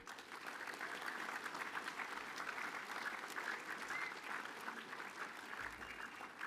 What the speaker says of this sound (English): So I think Benji deserves another round of applause there.